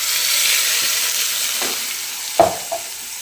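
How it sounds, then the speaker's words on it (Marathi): A spice tempering for tomato saar sizzles steadily in hot oil, a soft, even hiss close by. A couple of light clinks from stirring break through near the end. "छान अशी फोडणी, रंग बघा किती छान येतो आता"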